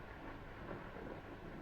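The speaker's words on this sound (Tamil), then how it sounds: "ஒரே மழை" Heavy rain pours down steadily with a low rumble of thunder beneath it, a dense, loud wash of storm noise throughout.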